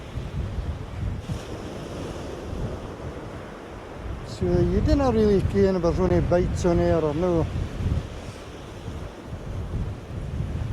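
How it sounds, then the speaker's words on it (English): Strong gusts of wind sweep across an Aberdeenshire beach during flounder fishing, roaring and buffeting the microphone with surf beneath, while someone talks over it. "Because there is a fair gust of wind."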